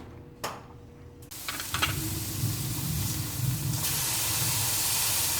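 Burgers start sizzling on a small cast iron skillet griddle, with a few clicks and a thump before the loud, steady hissing sizzle builds and holds close up, and no one talks.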